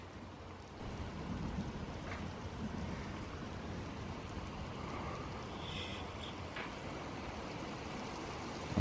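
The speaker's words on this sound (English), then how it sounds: "That's the rain." Rain falling during a severe thunderstorm with hail threatened, a steady low rushing wash heard alone throughout, with faint higher patter.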